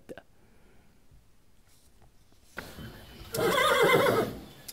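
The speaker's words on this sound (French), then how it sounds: "Les chevaux s'impatientent dans leur box." Racehorses neighing in their stalls, a single loud, close whinny rising near the end after a quiet stretch with faint stable knocks and shuffling.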